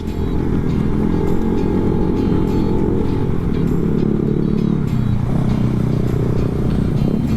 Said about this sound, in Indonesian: pagi-pagi jam segini nih sudah banyak mobil-mobil gede gitu